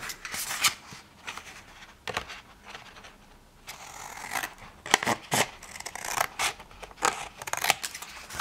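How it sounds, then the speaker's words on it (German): Scissors snip through paper to trim off a corner of a fold-line cut for a handmade recipe box, giving a series of sharp, close crisp cuts in irregular bursts with no talking. "So, und hier schneiden wir die Ecke ab."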